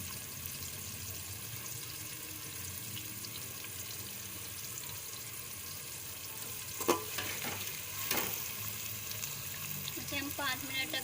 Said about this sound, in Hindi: हम 5 मिनट तक ऐसे ही भूने।